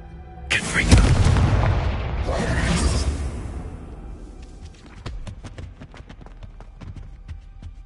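A Confringo blasting spell in Hogwarts Legacy erupts with a loud close boom and rumbling burst, followed by scattered crackling debris and light impacts fading away, with a voice speaking briefly.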